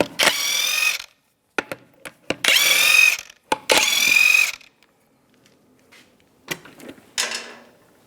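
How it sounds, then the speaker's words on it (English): A power tool with a 19mm socket spins lug nuts off the wheel of a 2003-2005 Chevrolet Trailblazer in three loud whirring bursts, each about a second long, separated by short clicks and clanks and by quiet gaps, heard up close. "Take these lug nuts off using a 19mm socket."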